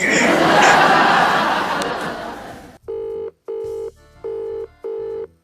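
A phone ringback tone repeats in four even beeps with short gaps, following a stretch of noisy chatter and laughter.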